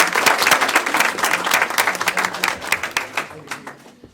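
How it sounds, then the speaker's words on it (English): Audience members at a River Edge, New Jersey mayor and council meeting give a round of applause, brisk close clapping from a modest group that tapers off into a few scattered claps. "So let's have a round of applause for that."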